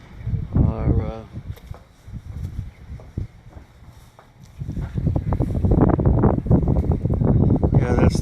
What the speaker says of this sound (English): It's breezy. It's really breezy.